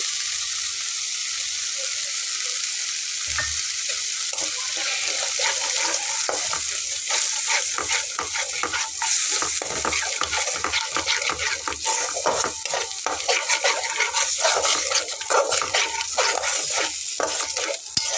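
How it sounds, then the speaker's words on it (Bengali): Ground spice paste sautéing in oil for dahi bhindi: a continuous sizzle runs throughout under frequent, rhythmic scraping and stirring strokes in the pan, close and fairly loud, with no speech. "বাটা মশলাটা দিয়েও খুব ভালোভাবে কষিয়ে নেবো"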